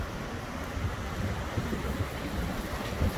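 Strong wind gusts roar during an Ohio windstorm of about 62 mph, a steady close rumble of wind buffeting the microphone with low thumps and no voices.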